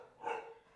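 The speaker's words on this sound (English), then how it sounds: "She's just so excited she can bark." A dog lets out a single short, excited bark, close and fairly quiet.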